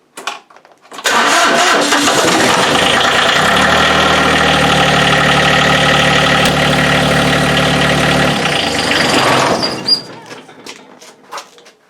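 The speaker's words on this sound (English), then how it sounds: "we're going to check down and see if it starts, and you'll know when it starts because of the noise it makes" A chilly GC2300 compact tractor diesel, fitted with a glow plug, cranks briefly and catches, then runs at a steady loud idle for several seconds before shutting down, leaving faint clicks and handling noises.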